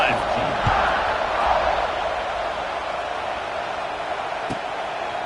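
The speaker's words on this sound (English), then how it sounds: "this crowd is feeling themselves after that last drive" Stadium crowd in EA Sports College Football 26 roars steadily throughout, a broad wash of cheering at even loudness with a couple of faint thumps, while commentary voices talk over it.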